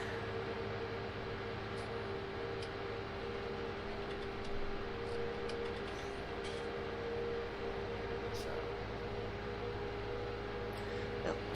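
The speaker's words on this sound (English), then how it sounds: "I hate the way that train jumps like that." A train rolls along steadily in a farming video game, a continuous low rumble with a faint mechanical hum running evenly throughout.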